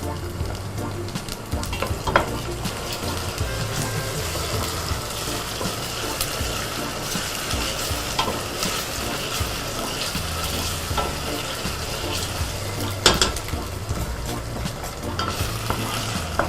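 Onions and ground ginger fry in a pan with a steady, moderately loud sizzle, broken by occasional stirring scrapes and a sharper crackle near the end, with no talking.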